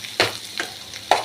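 Rice grains frying in a pan for papaya ghonto, a continuous soft sizzle punctuated by three spoon scrapes and stirs at irregular intervals, heard up close without talk.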